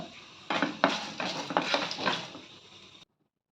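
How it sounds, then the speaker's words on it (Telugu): Tamarind being lightly dry-roasted in a pan for drumstick-leaf spice powder: close scraping and clattering of a spatula against the pan in several quick bursts for about two and a half seconds, then sudden silence. "అది కూడా ఇలా వేసి వేయించుకోవాలి కొంచెం లైట్గా"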